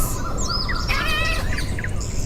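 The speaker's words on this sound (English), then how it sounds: "That sounds like even more birds." Birds chirp and tweet on a radio show, with several high calls and sweeping whistles stacked over a constant background hiss, fairly loud and with no talking.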